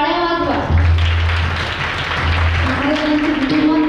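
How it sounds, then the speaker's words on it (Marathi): Clapping from a crowd gathered for a kirtan devotional gathering rises under a sustained voice and musical tones, moderately loud and continuous, partly masked by the singing and talk throughout. "सगळ्यांनी टाळ्या वाजवा."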